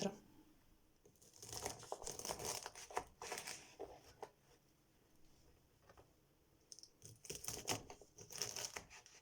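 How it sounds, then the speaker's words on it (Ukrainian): Asparagus beans are cut into short pieces with a knife, giving quiet, close bursts of crisp chopping and crunching that come in clusters with pauses between them. "Спаржеву квасолю я помила, обрізала всі хвостики і зараз необхідно нарізати її шматочками довжиною 2-3 см"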